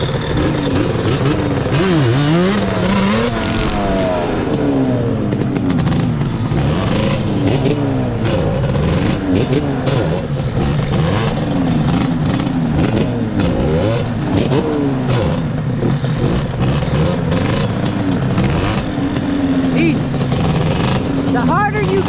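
A Yamaha Banshee engine revving hard, rising and falling in pitch as it is throttled and the clutch is let out, loud and close and continuous, with voices talking over it.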